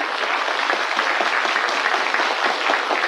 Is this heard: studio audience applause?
yes